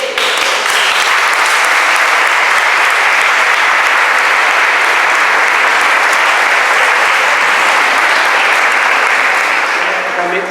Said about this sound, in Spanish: ¿le damos un aplauso al público?